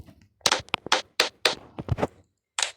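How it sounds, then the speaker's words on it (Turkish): Several short, sharp balloon pops from the video game Bloons TD 6 sound in quick irregular bursts, then a pause and one more pop, crisp and close with nothing else around them. "Patlatma sesi çok güzel."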